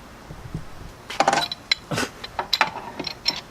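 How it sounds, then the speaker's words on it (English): Metal ratcheting and clinking as a large bolt is worked loose on a Honda Ruckus scooter, a series of close, sharp mechanical clicks and clanks in irregular bursts. "we're going to be unbolting this huge bolt right here"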